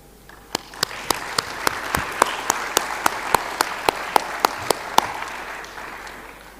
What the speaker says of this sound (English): I want us to applaud them.